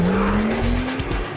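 A car with ceramic brakes stops hard, tires squealing with a rising tonal whine over loud engine and road noise, one sustained burst.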